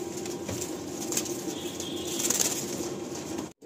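A pair of pigeons from a Kolkata loft is released, wings flapping steadily and close for a few seconds, with faint coos beneath and a quick cutoff at the end.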